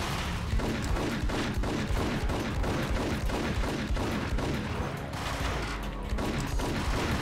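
Rapid gunfire rattles through a Max Payne video game firefight, dense overlapping shots and bursts hammering almost without pause at steady high loudness.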